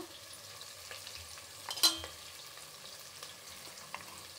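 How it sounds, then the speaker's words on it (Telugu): Onions and green chillies fry quietly in a pan with a soft, low sizzle at close range, broken by a single sharp clatter of a utensil and a few light stirring taps, without speech. "ఇప్పుడు ఎర్రగడ్డలు వేసుకుందాం, ఎర్రగడ్డ, పచ్చిమిర్చి, ఇప్పుడు ఇది బాగా వేగాలి"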